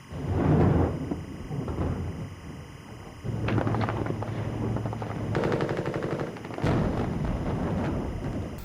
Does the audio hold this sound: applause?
no